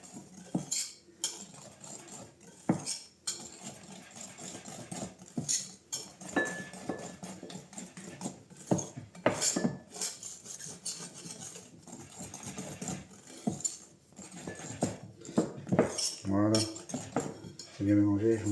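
Cannelé batter is mixed in a bowl for the Bordeaux pastry, with a utensil clinking and scraping against the bowl in rapid, uneven strokes and knocks throughout, nearby and fairly loud, with no talking.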